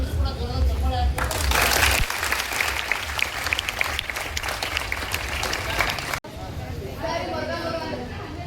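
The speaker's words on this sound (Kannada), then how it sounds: "ತಾವೆಲ್ಲರೂ ಕೂಡ ಜ್ವರದ ಚಪ್ಪಾಳೆ ಹಾಕಿ" Audience at a college event breaking into loud, sustained applause, dense clapping that swells and carries on, then cuts sharply to a quieter stretch with talking in the background.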